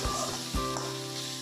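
Potatoes frying and sizzling in a pan while being stirred in a pumpkin and rohu fish curry, a steady close sizzle with a couple of louder scraping stirs and no talk.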